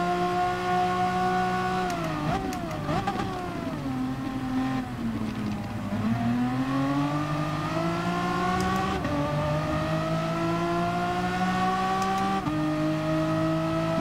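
Race cars run close together in GT Sport, several engines droning and revving at once, pitches sliding down and climbing back up as the pack accelerates, loud and continuous with no voices.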